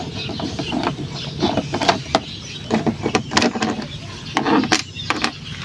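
Two 3mm hex screws being worked loose with an Allen wrench or socket on the front cover of a Suzuki Burgman Street scooter, giving close, irregular metallic clicks and ratcheting scrapes in short bursts with no talking.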